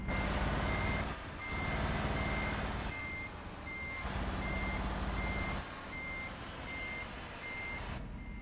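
Truck reversing with a trailer in Euro Truck Simulator 2: steady, evenly spaced reversing beeps repeat over a low engine rumble, with hissing air-brake bursts between them and no talk.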